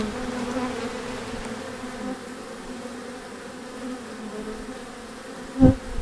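Honeybees buzz steadily around foundationless hive frames during an inspection, a soft close drone that continues throughout, with a brief louder bump near the end.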